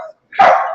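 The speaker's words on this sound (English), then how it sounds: "That dog." A dog barks nearby in one loud, sustained burst after a brief quiet gap, heard alone without talk over it.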